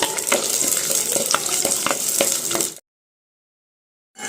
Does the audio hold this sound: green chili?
yes